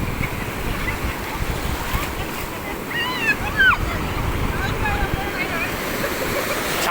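Sea waves breaking on Puri beach, a continuous rolling surf roar with wind buffeting the microphone and faint distant voices and calls in the background.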